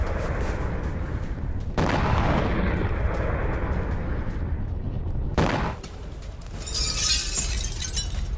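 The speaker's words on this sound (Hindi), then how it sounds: "रूस के अनापा बेस पर ड्रोन स्ट्राइक, अटैक ड्रोन से पिन पॉइंट हमला।" Two heavy blasts from a drone strike on a Russian base boom a few seconds apart amid continuous rumbling, followed by crackling debris and distant noise.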